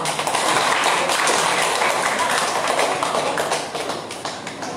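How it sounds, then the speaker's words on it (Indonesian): An audience at a regional candidates' debate for regent and vice-regent breaks into loud, dense applause that holds steady and then tapers slightly. "Mari kita beri tepuk tangan yang meriah"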